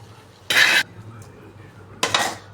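Beef is stirred into masala in a pan, with two loud, short metallic scrapes of a spoon against the pan about a second and a half apart, up close, between quiet gaps and no talking.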